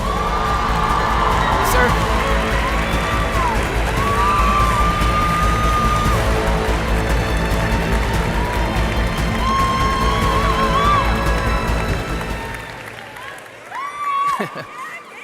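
A large audience at the Congress of Future Medical Leaders 2019 cheers, whoops and applauds loudly and continuously to welcome a veterinarian on stage, then the noise falls away as he begins speaking.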